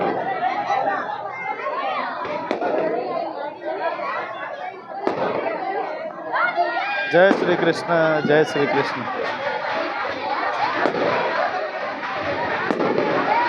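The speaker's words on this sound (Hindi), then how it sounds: "पटाखे फोड़े जा रहे हैं" Firecrackers burst at a Tulsi Vivah celebration, sharp cracks and rapid crackling volleys popping amid a chattering crowd, with people chanting and talking over the bangs.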